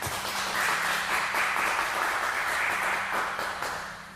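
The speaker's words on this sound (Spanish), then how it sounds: "les pido un fuerte aplauso al doctor Luis Iwakawa" Audience applauding as Dr. Luis Iwakawa is welcomed at a Spanish-language talk on Chinese medicine, a dense, steady wash of many hands clapping throughout, loud and continuous before easing slightly at the end.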